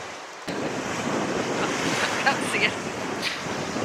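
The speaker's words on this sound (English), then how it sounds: "The wind is blowing, as you can probably tell, and it's whipping up real gusts at time" Strong wind roars steadily across the microphone on Lepe Beach with surf rushing behind it, gusting louder at moments, outdoors and close.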